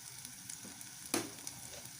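Ginger garlic paste sizzles softly in a pan, broken by one sharp scrape of a spoon partway through, then settling back into low, quiet frying.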